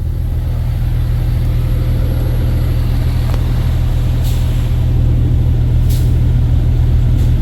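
Trucks queued in a congested port, a steady low engine rumble filling the scene with brief airy hisses of air brakes releasing now and then, no voices.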